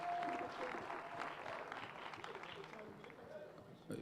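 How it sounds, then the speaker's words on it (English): Applause from an audience at a presidential launch ceremony for a tin smelting company in Mbarara, greeting the city mayor; steady clapping and crowd noise fill the whole stretch, with some voices mixed in. "Can we give him a round of applause,"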